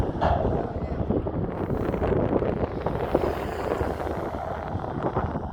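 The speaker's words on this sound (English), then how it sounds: "It's a noisy ass road" Steady broadband rumble and rushing noise inside a car cruising along a rough, noisy road on a long highway drive, continuous and fairly loud, with wind buffeting and no clear voices.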